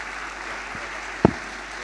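An audience at a bishop's episcopal message applauds, a steady dense wash of clapping running throughout with a single sharper thump near the middle.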